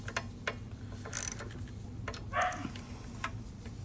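Quiet, intermittent mechanical clicks and rattles from a Toro lawn mower's throttle linkage with a Tecumseh carburetor being worked back and forth, with a steady low hum underneath.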